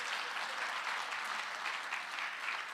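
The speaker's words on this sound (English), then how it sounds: "Give him a round of applause" A conference keynote audience breaks into a round of applause, a dense, uniform clatter of many hands that carries evenly from start to finish.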